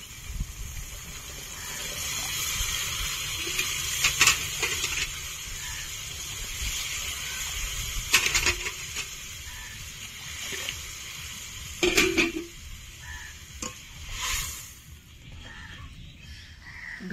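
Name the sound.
water poured into frying spice paste for rohu fish curry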